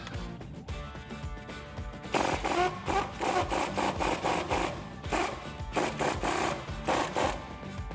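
Air impact gun rattling off a sway bar end link nut on a 2012-2019 Dodge Challenger, a loud buzzing hammer in repeated bursts after a quieter start, close up with no talk.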